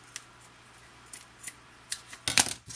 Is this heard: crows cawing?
no